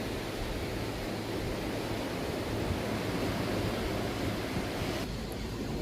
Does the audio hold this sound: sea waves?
yes